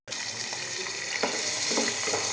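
Carrots and beans frying in oil for a vegetable biryani, a steady close hiss and sizzle throughout, with a few soft stirring knocks.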